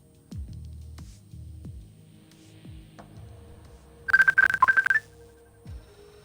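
A phone rings with an incoming call, a brief burst of bright, rapidly repeating electronic tones following a few soft clicks and thumps, moderately loud and close.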